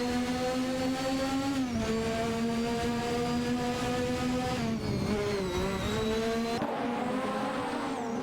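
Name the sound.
race car engines in a racing video game, Zakspeed 881 cars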